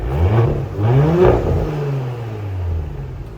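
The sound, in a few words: Audi S5 engine revving with new exhaust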